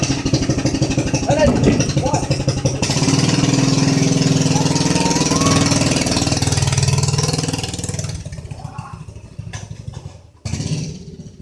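A small mini bike engine idles loud and close with a steady, rough putter for about eight seconds, then cuts out into quieter background noise before a brief final burst.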